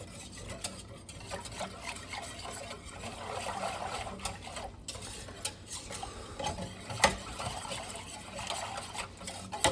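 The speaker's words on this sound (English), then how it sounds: "We'll stir it up." Macaroni and cheese stirred in a pot, a steady scraping and thick squelching that runs continuously at close range with a few brief clinks against the metal, no voices over it.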